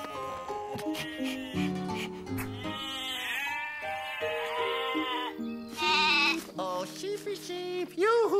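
Several sheep bleat repeatedly in wavering, high calls over a light musical background, fairly close and clear, with no talking.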